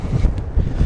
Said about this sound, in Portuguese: o vento tá batendo aqui